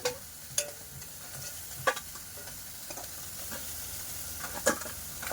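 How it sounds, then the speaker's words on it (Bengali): Small pond crabs frying in an oiled pan, a quiet continuous sizzle punctuated by several sharp spatula scrapes and clinks against the pan, with no talking. "কাঁকড়াগুলো কিন্তু খুব ভালো করে ভেজে নিয়েছি এবারে তুলে নিচ্ছি"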